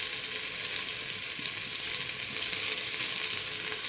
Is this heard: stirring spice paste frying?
yes